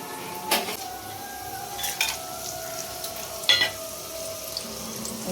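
Onions frying in hot oil for biryani, a steady broadband sizzle with a few sharper crackles and clinks of a utensil against the pot, no voices.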